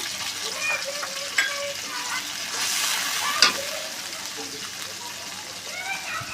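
Turmeric, chilli, cumin and coriander powders with a little water and salt sauté in a pan for a prawn and pumpkin curry, a continuous bubbling sizzle broken by stirring scrapes and a couple of sharp clanks, with a voice faintly in the background.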